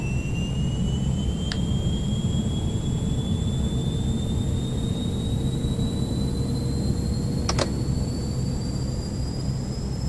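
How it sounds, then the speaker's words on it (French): Jet engine spooling up in an X-Plane 10 flight simulator, a steady loud whine climbing slowly in pitch over a constant low roar, with two brief clicks, and no speech. "Et on redonne un coup de démarreur."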